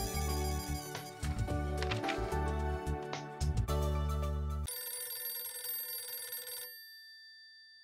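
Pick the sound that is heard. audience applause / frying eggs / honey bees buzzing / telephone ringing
telephone ringing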